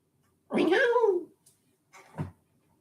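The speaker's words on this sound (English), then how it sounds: "And there's a kitty cat in here somewhere." A house cat gives one clear, drawn-out meow up close, followed a moment later by a shorter, softer chirp, with quiet room tone around both calls.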